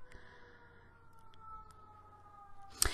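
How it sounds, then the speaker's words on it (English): Faint, steady sirens drift in from outside an open window, a distant wail with slowly sliding pitch held under a quiet room, ending in a brief sharp clatter nearby. "I'm sorry if you hear sirens in the background"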